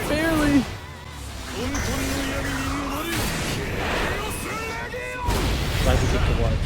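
A super move cinematic in Granblue Fantasy Versus Rising plays loud, sustained booming blasts and rumbling impacts from the fighting game, with tournament commentators talking over the din throughout.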